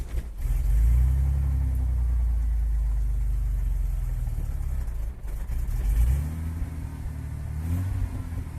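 A 1993 Ford F250 with a 4.9-liter inline-six starts and runs after a new distributor install, settling into a steady low rumbling idle with a brief dip and blip of revs, close and alone.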